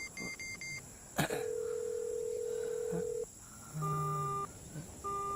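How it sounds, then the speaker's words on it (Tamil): Telephone keypad tones from a Tamil film scene: a quick run of short dialing beeps, then a long steady tone and a few more electronic beeps, fairly close with no talk. "போன் நம்பரை போடு"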